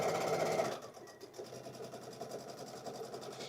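A Brother IQ Designer sewing machine stitches a fabric pouch, a short loud burst of motor whir that drops to a quieter, fluttering hum of slow stitches.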